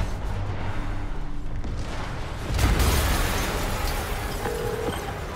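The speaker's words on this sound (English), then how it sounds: "Yuri, an explosion just..." Explosion in the video game Marvel's Spider-Man Remastered, a heavy boom landing midway through a rumbling, noisy scene, followed by a lingering roar and debris-like rush.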